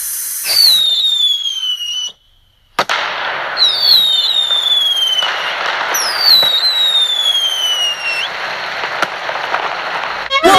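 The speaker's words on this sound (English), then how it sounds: "are you ready for the first firework?" Fourth of July fireworks going off loudly, with several descending whistles over a steady, dense crackling that runs almost throughout.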